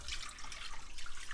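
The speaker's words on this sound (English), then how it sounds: "we're going to dump in our milk" Milk pours into a saucepan in a brief, soft liquid trickle and splash, heard close up and alone.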